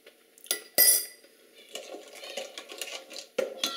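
Smoky chipotle baked beans with coffee stout being stirred by hand, a spoon scraping and clinking against the pot in uneven strokes, with a few louder knocks, close and fairly clear.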